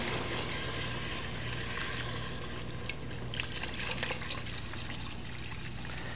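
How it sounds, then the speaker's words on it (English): Water trickles and pours steadily into a pot of roux on the stove, a continuous splashing stream at close range with no talk over it. "we're going to go ahead and add our water"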